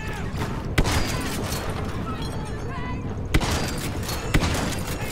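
Shotgun blasts in Star Wars Battlefront 2 ring out as three sharp, loud reports spaced a few seconds apart over a busy bed of game battle noise.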